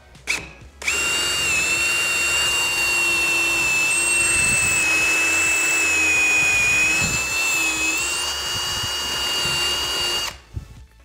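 A power drill bores through timber while building a pot plant stand, a steady loud whine running unbroken for about ten seconds before cutting off, with no talk.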